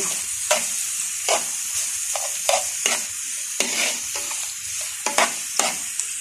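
Ingredients sautéing in a pan until browned, a steady sizzle broken by repeated rhythmic scrapes and clinks of a spatula stirring, close and fairly loud.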